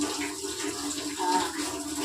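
Water runs steadily from a kitchen tap while a curry is being prepared, a continuous hissing flow at moderate level with no talking.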